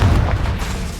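A Confringo explosive spell blast in Hogwarts Legacy, heard as one short, loud, deep boom that fills the moment.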